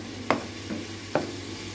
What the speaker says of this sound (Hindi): 2 टेबल स्पून मैंने लहसुन अदरक लिया था। इसको हम अच्छी तरह भून लेंगे